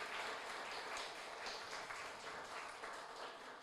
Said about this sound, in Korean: 우리 스태프들에게 한번 박수 한번 했으면 좋겠습니다